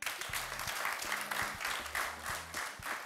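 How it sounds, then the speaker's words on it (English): Moderately quiet applause and hand clapping from a small group, uneven and a little sparse, with some low tonal background sound running underneath. "I'm going to clap for bros."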